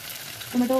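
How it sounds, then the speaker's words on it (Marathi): Onion, potato, capsicum and tomato frying for masale bhat, a soft, even sizzle that swells louder near the end with a brief stirring scrape. "आता हे सगळं वापस नीट फ्राय करून घ्यायचं एकदम नीट"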